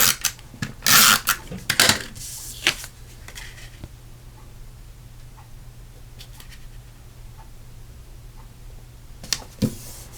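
Dry papery rubbing and shuffling as a greeting card layer is pressed onto navy cardstock. Short scratchy bursts come close up at the start and again near the end, with quiet pauses between.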